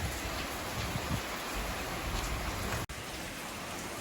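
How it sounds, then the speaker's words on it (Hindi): Heavy, unbroken rain pours outside at night in Dehradun during a cloudburst. It makes a dense, steady hiss with a brief dropout near the end, and no voices are heard. "बाहर लगातार बारिश है"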